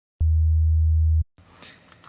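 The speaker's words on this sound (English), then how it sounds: "the sine wave has only one harmonic" A synthesizer sine wave tone sounds as one pure, steady low note for about a second, starting and stopping with soft clicks, followed by faint keyboard-like tapping.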